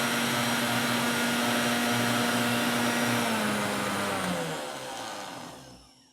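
A kitchen grinder whirs loudly, grinding dried stevia leaves into powder with a steady high motor whine that drops in pitch and fades as it spins down near the end.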